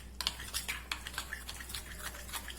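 Oreo cake mixture being stirred in a bowl, a rapid series of light scraping clicks and taps of utensil against the bowl, close up over a faint steady hum.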